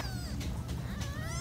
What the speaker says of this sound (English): there are kittens. Look at them.